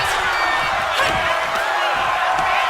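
Video-game arena crowd from WWE 2K during a women's wrestling match, a steady loud roar of cheering and whoops filling the whole stretch with no talk over it.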